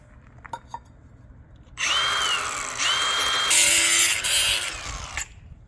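A power grinder works metal pieces during brake work on a 1969 Ford F100. A few faint clicks come first, then a loud, close, steady grinding whine runs for about three and a half seconds before cutting off, with no talk.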